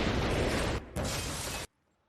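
A loud, roaring explosion blasts out, rumbling with a brief break before cutting off abruptly into near silence.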